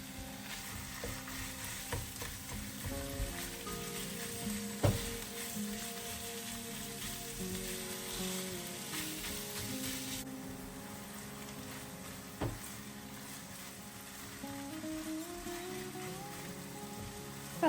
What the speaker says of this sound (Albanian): Do vazhdojmë të skuqim duke përzier vazhdimisht dhe do të hedhim 400 g misht të grirë viçi.